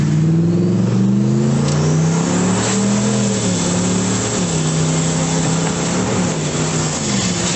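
A 5-liter V8 engine in a Mercury Mountaineer all-wheel-drive SUV revs steadily and loudly nearby, its pitch rising and falling through several throttle swells with no pauses.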